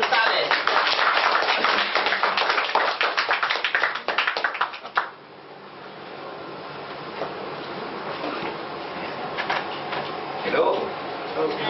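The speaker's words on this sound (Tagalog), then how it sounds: "milyon-milyong palakpak para sa kanya" An audience welcoming an engineer to the stage at a new distributors orientation with dense, loud applause that fades into murmuring crowd noise and a voice starting to speak over it.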